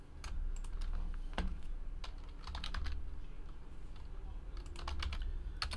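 Steady typing on a computer keyboard during a baseball card box break, quick irregular key clicks close up over a constant low background hum.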